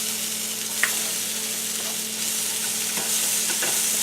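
Sliced steak for a Philly cheesesteak fries in a pan with a steady, moderate sizzle, broken by a few soft clicks and scrapes of stirring.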